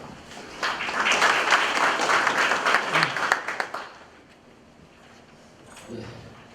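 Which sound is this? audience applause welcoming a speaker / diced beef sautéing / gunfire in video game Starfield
audience applause welcoming a speaker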